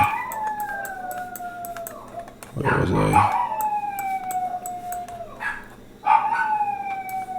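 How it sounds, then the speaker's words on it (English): Several dogs howl in long, sliding wails behind someone speaking indoors, rising and falling in overlapping waves, with one louder burst midway and another near the end. "Sorry about the dogs howling in the background."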